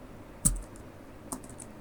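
Two separate clicks on a computer keyboard, faint and close, against a quiet background hiss.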